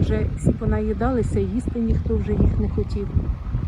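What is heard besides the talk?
No everyday noises stand out.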